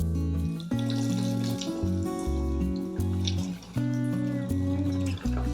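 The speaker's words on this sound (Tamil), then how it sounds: "இப்போ நம்ம கட்லெட்ஸை போட்டுடலாம்." Chicken cutlets dropped into hot oil in a kadai give a steady bubbling sizzle, close and fairly loud, running continuously with a few surges and no voices.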